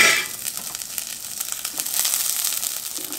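French toast sizzling in butter in a frying pan, a steady close crackle with small pops and light handling noises, no voices.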